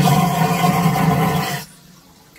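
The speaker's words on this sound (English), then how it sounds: "Listen, flush, press firmly to flush." A vacuum toilet flushes with a loud, close roaring rush of air and water that cuts off abruptly after about a second and a half, leaving near silence.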